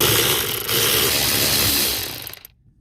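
Power tool whirring on 13 mm bolts of a VW T4 clutch bracket, a loud continuous mechanical buzz up close that stops abruptly near the end.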